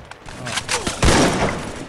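Rapid AK rifle bursts in the Free Fire shooter game, a dense crackling volley building to a loud sustained stretch, with a voice talking over it.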